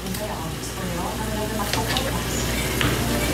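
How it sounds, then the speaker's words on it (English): Shrimp sauté in butter and garlic with string beans, giving a steady close sizzle and frying hiss with light stirring scrapes. Low background sound runs along under it. "So I'm making shrimp sauteed with butter and garlic, and I make with string beans"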